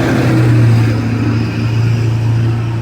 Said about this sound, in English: Hold on a second, we've got a truck rolling through here.